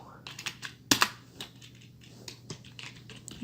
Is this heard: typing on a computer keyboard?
yes